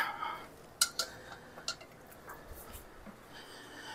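A metal lid clinks onto a glass jar of home-canned raspberry jam, a few quick sharp taps and rattles near the start, then quieter handling noises.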